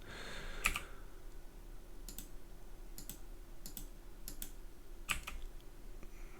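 Keys pressed on a computer keyboard while working in Blender 3D modeling software, a handful of sharp, faint clicks spaced irregularly over a quiet background hum, with no one speaking.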